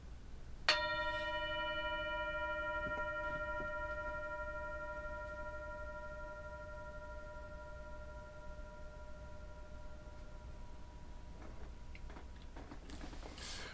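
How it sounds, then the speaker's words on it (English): A single bell is struck once and rings out with a pure, sustained tone. It fades slowly over about ten seconds against a quiet background. "I'm going to ring the bell."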